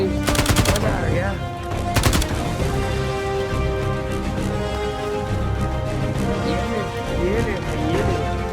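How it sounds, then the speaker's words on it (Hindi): Two short bursts of rapid automatic gunfire ring out early in Uncharted 4: A Thief's End, over steady game background noise and a voice talking. "पूरी फील्ड में गोलियाँ चला रहे हैं ये लोग"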